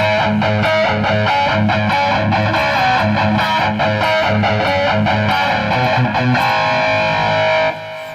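A heavily distorted electric guitar chugs through a driving rhythm riff, loud and dense, with palm-muted low notes before cutting off near the end.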